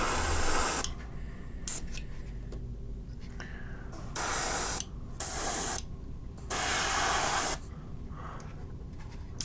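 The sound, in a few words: airbrush spraying paint onto porous MDF wood terrain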